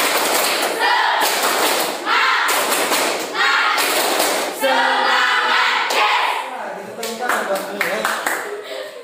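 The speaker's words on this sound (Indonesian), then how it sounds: "mulai sama-sama tepuk semangat" A whole class claps a rhythmic spirit routine together in a classroom lesson, loud clustered claps and thuds in repeating patterns punctuated by brief gaps, with voices chanting along throughout.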